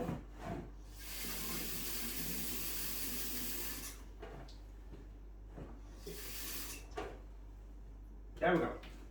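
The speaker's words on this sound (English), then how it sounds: "ice cold tap water up to the fill line" Ice-cold tap water gushes into a Pinter beer-brewing container in two bursts of hissing flow, separated by clunks and handling noises, with brief talk in between.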